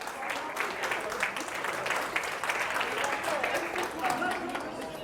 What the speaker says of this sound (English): let's give them a round of applause for volunteering,